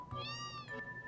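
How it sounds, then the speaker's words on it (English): A single clear, drawn-out meow from a cat in the PlayStation game Final Fantasy VII, rising then falling over about a second, heard alone. "he's got a kitty too."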